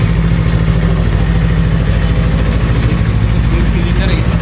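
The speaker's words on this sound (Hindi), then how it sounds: "अगर इंजन साउंड या एग्जॉस्ट साउंड अगर सुना, उसकी अगर मैं बात करूँ तो वो कुछ ऐसा है।" A Yamaha R3 twin-cylinder motorcycle engine and exhaust run loud and close with a steady, even idle throb throughout.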